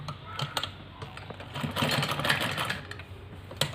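A sewing machine stitches lace (gota) trim along the side seams of a ladies' kameez, with a steady mechanical whir under rapid needle ticks that swell in the middle and ease off toward the end, no voices.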